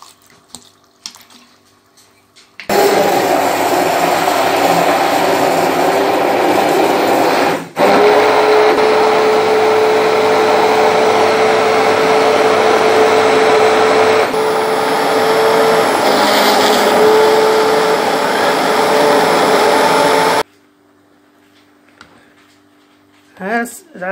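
A blender grinds juice with sugar, a loud continuous whirring roar that starts abruptly, runs for nearly twenty seconds with a brief dip partway, then cuts off into quiet.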